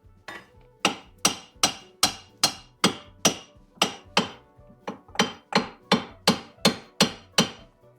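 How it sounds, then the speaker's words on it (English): A hammer strikes steel repeatedly to knock a ball joint out of the front suspension hub on a Citroën Picasso, about fourteen sharp, evenly spaced metallic blows, close and loud in a quiet garage. "now we actually need to remove the ball joint from the hub. The best way to do that is probably just with a hammer."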